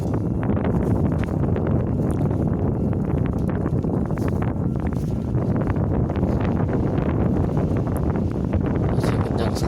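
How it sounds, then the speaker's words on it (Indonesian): Strong wind gusts buffet the microphone in front of the lava dome crater of Mount Merapi, a loud, continuous low roar with dense rumbling turbulence throughout and no voices. "Masih kencang sekali, terlihat Gunung Merapi bergoyang karena hembusan angin"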